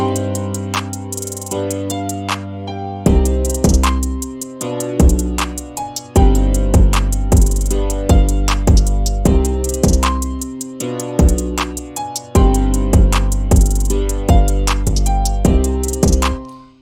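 A loud electronic drum pattern made in FL Studio kicks in with heavy booming kicks and sharp claps over sustained synth chords, building into a driving, steady dance beat.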